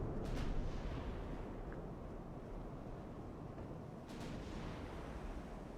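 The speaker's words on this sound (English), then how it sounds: "we're getting the first shots" Naval gunfire in the warship game Ultimate Admiral: Dreadnoughts, with a couple of distant, muffled booms over a continuous low rumble of sea and engines.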